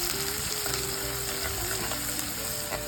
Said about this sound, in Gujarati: ત્યાર પછી 1 ડુંગળી સમારેલી આપણે એડ કરશું અને આપણે એને સાંતળી દઈશું